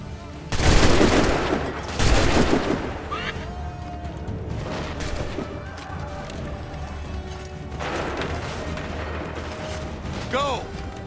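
Musket volley fire in the video game Assassin's Creed 3, two loud ragged volleys close together, then a quieter crackling volley later, with battlefield noise and voices between them.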